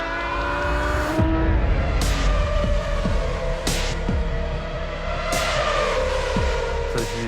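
Formula 1 car driven by Sébastien Ogier on track, its engine note rising and falling through repeated upshifts and throttle bursts, loud and continuous with a steady broadband roar throughout.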